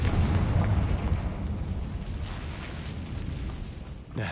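The Confringo fire spell in the Hogwarts Legacy video game erupts in a loud, deep explosive boom that rumbles and fades over several seconds before a brief second impact at the end.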